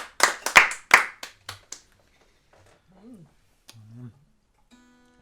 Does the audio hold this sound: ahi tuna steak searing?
no